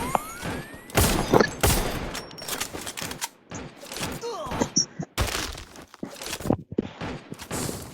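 Video game gunfire, with bursts of loud rapid shots, cracks and shattering impacts tumbling over one another in an irregular firefight close to the listener.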